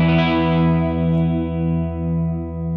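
Guitar strings ring together as a sustained, fading chord, with a slow regular wobble that beats through the tone because one string sits slightly out of tune, heard close and alone.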